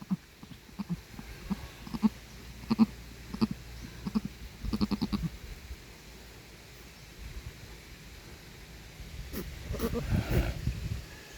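Goats bleating in short repeated calls, moderately close, with quiet background noise and a louder cluster of bleats near the end.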